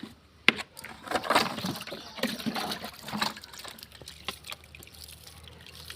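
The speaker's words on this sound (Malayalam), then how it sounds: "നനയ്ക്കുമ്പോൾ ഈ മണ്ണും ചകിരിച്ചോറും കൂടെ മിക്സായി" Water poured from a container onto a mix of potting soil and coir pith while preparing to sow cucumber seeds, making a soft, uneven trickling and splashing for several seconds, close and fairly quiet, with no talking.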